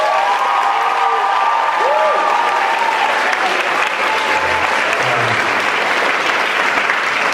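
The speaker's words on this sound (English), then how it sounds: "Big round of applause for our graduating seniors." A crowd applauds graduating seniors at a performance for the mayor, loud sustained clapping with a few faint cheers and whistles mixed in, filling the whole stretch.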